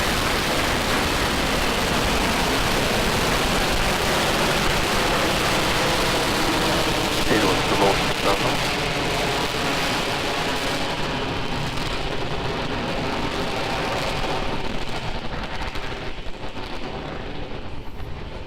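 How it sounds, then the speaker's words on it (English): A SpaceX Falcon 9 carrying a Crew Dragon capsule lifts off from pad 39A with a loud, continuous, crackling roar that fades slightly toward the end, while a voice talks underneath. "Falcon 9 with the Crew Dragon capsule is heading east from pad 39A."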